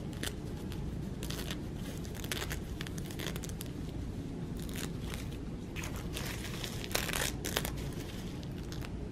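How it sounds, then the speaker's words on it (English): Embroidery topping stabilizer being torn away from a stitched garment by hand, giving repeated crackling, crinkling rips in short bursts at close range with no talking. "You can tear off your"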